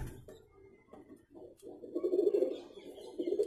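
A young pigeon held in the hand coos softly in low, rolling bursts that swell toward the end, close and fairly quiet, with a few small rustles and no speech.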